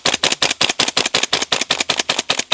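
An airsoft gas blowback pistol fires BBs in a rapid string of about twenty sharp, evenly spaced cracks with slide clacks, loud and close, while nearly out of gas.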